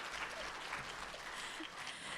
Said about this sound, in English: we can clap for Mahad as well